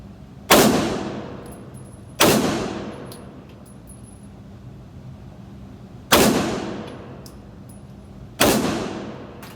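Four sharp gunshots fired barehanded at a target during shooting practice, spaced irregularly over several seconds, each a loud crack with a short ringing decay, with no talking.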